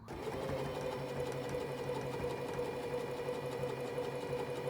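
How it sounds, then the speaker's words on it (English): A sewing machine top-stitches fabric skate covers, a steady, close, rapid mechanical whir of needle strokes that runs without a break and with no talking. "do a top stitch all the way around"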